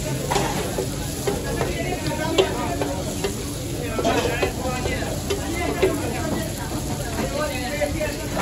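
Masala is sizzling and being stirred in a kadai at a busy Peshawar food street, a steady crackling hiss with scraping strokes, with crowd chatter and voices around it.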